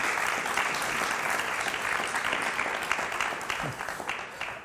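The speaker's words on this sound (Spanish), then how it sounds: "Un aplauso para Darío." A studio audience on a Spanish TV show claps for a guest named Darío, a dense, continuous burst of applause at even loudness for several seconds.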